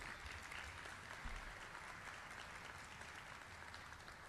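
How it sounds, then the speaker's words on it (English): A crowd of students and parents claps at a school student recognition ceremony in Brockton, a dense, even patter of applause sustained throughout at a fairly distant, moderate level with no voices over it. "you should give yourselves a round of applause"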